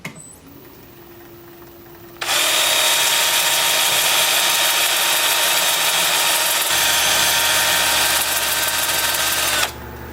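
A spinning lathe hums, then a loud, steady abrasive whir of sanding a wooden tri-corner bowl starts, holds for several seconds and cuts off near the end.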